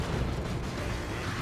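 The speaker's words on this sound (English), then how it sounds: "Might get a plasma cannon shot here." A plasma cannon shot from Dawn of War 2: Retribution lands as a muffled, distant boom with a rumbling low tail, fairly quiet and heard alone for about a second and a half.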